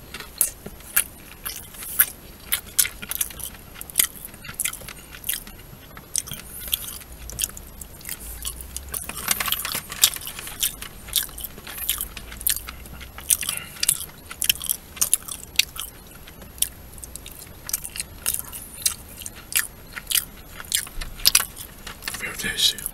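Sushi being chewed inside a parked car during a lunch break, with close, wet biting and crunching sounds, light rustling and occasional clicks repeating steadily under a quiet cabin background.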